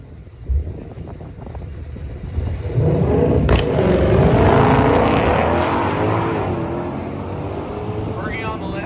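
A 1966 Ford Galaxie launching down a drag strip at Milan Dragway, its loud V8 roar building and revving hard, then holding a sustained drone as the car pulls away, with a brief voice near the start.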